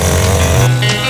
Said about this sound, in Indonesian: meski efektif, penggunaan gergaji mesin harus hati-hati